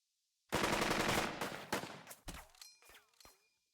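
A machine gun squad in the Burden of Command war game opens fire in a dense, rapid burst, then breaks into shorter bursts and scattered single shots that fade out.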